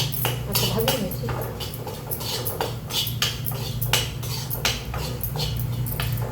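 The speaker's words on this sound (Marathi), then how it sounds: "ही केलेली लसणाची चटणी या तेलामध्ये थोडंसं गरम झाले की असं ते परतून घ्यायचं" Garlic chutney roasts in oil in a pan while a utensil repeatedly scrapes and clinks against the metal in an uneven rhythm. The pan sits close, under a soft steady sizzle.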